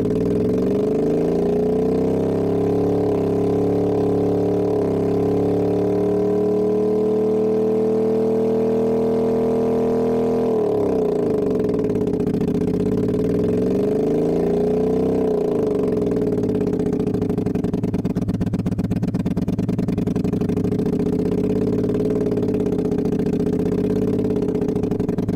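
A simulated inline four-cylinder engine in an engine simulator game, misfiring on cylinders 1 and 4, is held at full throttle with a steady buzzing drone, then its pitch sweeps and wavers up and down as the revs change.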